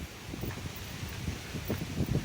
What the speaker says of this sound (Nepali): एकदमै हावा चलेको छ